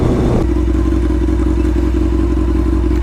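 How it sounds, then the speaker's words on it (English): A motorcycle with a rebuilt transmission clunks into first gear with a brief rough clatter, then settles into a loud, steady engine idle close by. "It just slips into first gear"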